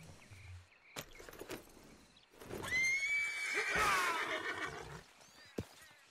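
A horse in the video game Red Dead Redemption 2 lets out a loud, shaky whinny lasting a couple of seconds, preceded by a few soft hoof thuds and light rustling, with faint ambient outdoor sounds.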